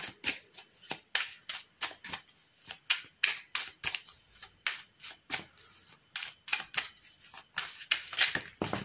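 Tarot-style oracle cards being shuffled and cut up close, a quick run of papery riffles and flicks with short pauses, fairly soft and with no voice.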